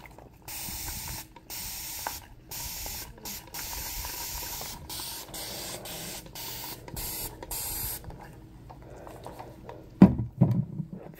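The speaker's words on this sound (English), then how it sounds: "Spray a little bit." Spray bottle misting hair during a haircut, a series of close, crisp hissing bursts in rhythmic pumps, followed by a brief louder rustle near the end.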